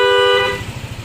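A Yamaha Aerox scooter horn honks once, loud and close, holding a bright steady tone for about half a second before cutting off over a low idling rumble.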